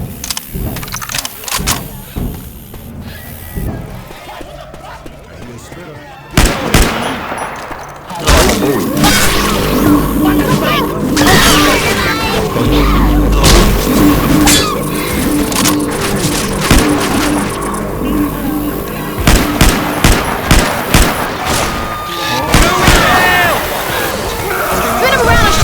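Gunfire from Left 4 Dead 2 on the Dark Carnival campaign, sharp repeated shots in bursts over a dense, loud game soundscape with shouting voices.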